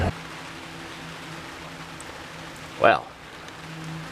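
Steady rain falls outside as a soft, even hiss throughout. A brief louder swish comes partway through, and a person speaks over it.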